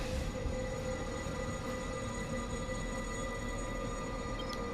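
Steady rumble and rolling rattle of a metro train in the video game The Surge 2, continuous and fairly loud throughout with a faint high squeal near the end.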